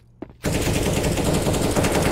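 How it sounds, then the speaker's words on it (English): Rapid automatic gunfire from a wall bang in Counter-Strike on the Mirage map, a sudden loud burst that starts after a brief quiet moment and continues as a sustained, dense rattle. "Oh, and that wall bang."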